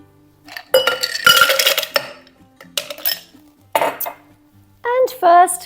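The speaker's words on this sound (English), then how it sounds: "Ice in the shaker." Ice cubes go into a metal cocktail shaker while a Blue Hawaii is made, in several close, loud bursts of clattering and clinking with short pauses between them and a ringing metallic tone near the end. No one talks.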